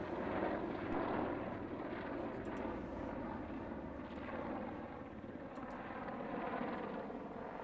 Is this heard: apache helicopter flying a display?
yes